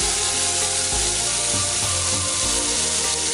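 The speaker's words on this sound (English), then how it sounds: "I'm going to saute it, sweat it a little bit with the butter and oil mixture" Celery and onion sweating in a butter and oil mixture give a steady, close, dense sizzle with faint stirring scrapes underneath, and no one speaks.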